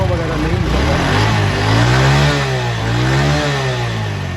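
A ten-year-old 2014 Honda CD motorcycle engine is revved repeatedly, its pitch rising and falling in several surges over a steady idle, close and loud.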